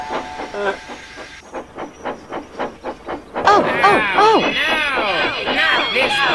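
A steam locomotive in a Trainz railway simulation chuffs in a steady rhythm, then bursts into a loud, continuous hiss with voices speaking over it.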